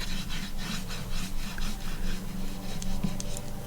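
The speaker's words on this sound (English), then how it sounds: "to burnish your washi tape down" Washi tape on paper being burnished down by hand, a steady close rhythmic scratchy rubbing of repeated quick strokes, with no talking.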